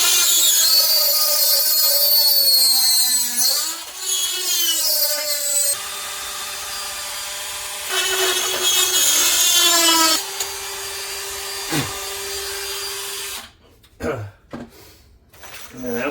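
A power tool spins a cutting bit, producing a loud, close, high whine that rises and dips in pitch as it bites, holding steady through several passes before cutting off near the end.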